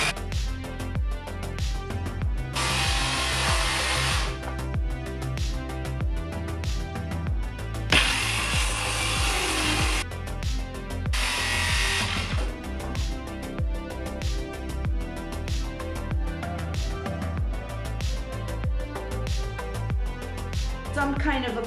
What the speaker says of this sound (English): Cutting cabinets.